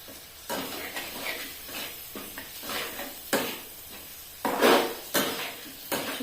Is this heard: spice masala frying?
yes